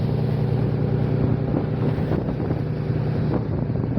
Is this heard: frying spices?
no